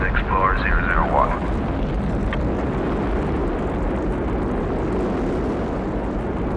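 A rocket booster ignites and lifts off with a broad, loud rumbling roar that holds steady. A few chirpy synthetic tones play over the start.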